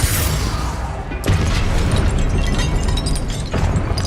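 Confringo explosion spells going off in Hogwarts Legacy, a dense continuous roar of blasts with sharp bursts near 1.2 and 3.5 seconds, loud and close, with no talk.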